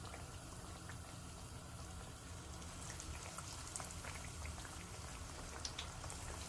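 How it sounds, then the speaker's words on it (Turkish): Chicken schnitzel pieces frying in a pan of hot oil, giving a steady, dense crackle and bubbling sizzle that runs evenly throughout with small popping spikes, fairly quiet and with no voices. "Şimdi yağımız ısındı kızartmaya başlıyoruz."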